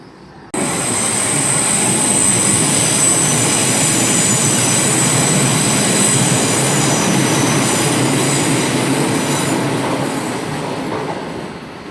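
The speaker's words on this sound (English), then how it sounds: "that's coming on platform 1 with terminating service from Oxford" Passenger train from Oxford arriving at a London Paddington platform, starting abruptly into a loud sustained rumble with high wheel squeal and rail clatter, slowly fading near the end, no talking.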